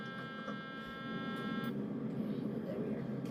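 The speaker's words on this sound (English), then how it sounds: "That was that alarm right there was the landing gear alert." A landing gear alert alarm sounds in a flight simulator game as a steady, thin electronic tone over a low engine drone, then cuts off partway through while the droning hum carries on.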